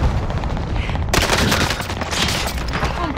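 Loud, continuous bursts of automatic gunfire in a shooter game on the Caldera map, rattling without pause and swelling sharply partway through.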